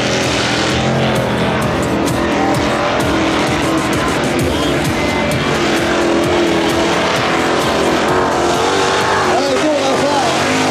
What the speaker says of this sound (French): donne ça plein gaz pour Vincent gagner.